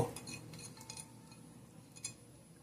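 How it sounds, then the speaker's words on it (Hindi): A spoon mixes chopped tomato and medium onion in a bowl, giving soft, close scraping and clinking that is quiet and fairly steady. "ये टमाटो और अनियन मिक्स किया है।"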